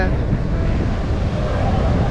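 Strong sea waves roll in at Kovalam beach in Kanyakumari, a continuous loud roar of surf mixed with heavy wind buffeting close to the microphone.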